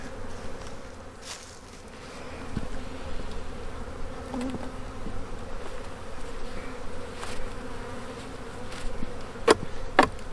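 A crowd of honey bees buzzing steadily in an opened, beetle-infested hive after a winter die-off, a close, continuous drone with a few sharper passes and clicks near the end.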